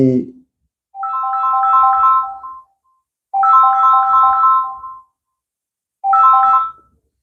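A phone ringtone plays a bright, repeating melody in three bursts separated by short silences, clear and close.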